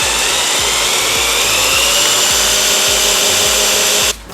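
A Cuisinart hand blender motor runs loud and close with a high, buzzing whine and a rhythmic low pulsing, then it cuts off near the end.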